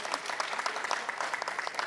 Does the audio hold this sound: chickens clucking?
no